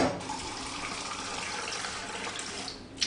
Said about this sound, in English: Then you need about a pint of warm water.